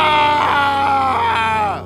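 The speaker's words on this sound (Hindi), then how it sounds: "अचानक किसी के चिल्लाने की तेज आवाज आई।" A loud, sustained human cry of distress, a strained wailing scream that holds for nearly two seconds near the listener, then fades slightly at the end.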